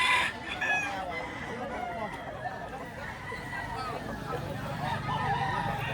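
Chickens cluck and a rooster crows nearby at a chicken market in Lipa, Batangas, with people talking over the birds throughout.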